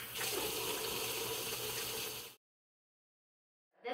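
Hot tap water runs steadily from a faucet into a sink while a face is washed, a close continuous gush that cuts off abruptly, then resumes briefly after a moment of silence.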